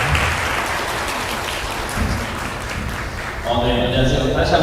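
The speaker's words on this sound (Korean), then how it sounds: "여러분 큰 박수로 호응해 주시면 감사하겠습니다" Clapping fills a Korean education talk event as two guests are welcomed, a broad, fairly loud patter of applause with a voice coming through over it toward the end.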